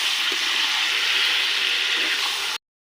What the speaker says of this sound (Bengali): এবার কচু শাক ঢেলে দেবো। দিয়ে নাড়াচাড়া করে নামিয়ে নেব।